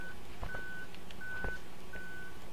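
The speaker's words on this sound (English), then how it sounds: "Beep, beep, beep, beep," Repeated electronic reversing beeps from a vehicle in the video game Human Fall Flat: steady, evenly spaced mid-pitched tones sounding alone over a faint low background hum.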